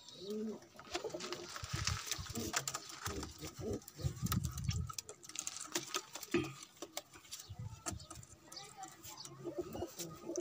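Desi domestic pigeons coo softly and repeatedly in low, throaty murmurs, with fluttering and rustling nearby and faint background noise.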